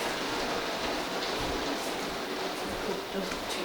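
Heavy rain pours steadily during a hurricane as a loud, dense, continuous hiss of drops with no letup, close and filling the whole space, with no clear talk over it.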